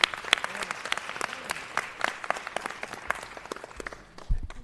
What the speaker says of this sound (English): Let's give him a round, Brother Lyons, a round of applause.